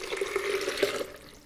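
Filtered water pours steadily into a blender jar while making a pumpkin seed dressing, a continuous close gurgling trickle that tapers off at the end.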